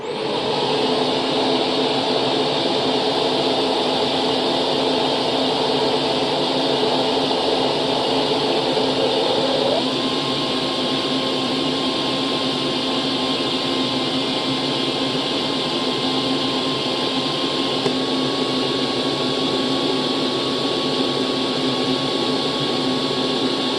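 Shark NV650W upright vacuum cleaner running continuously and loudly with a steady motor whine and airflow rush; the tone shifts audibly around a third of the way through as it steps up to a higher airflow setting.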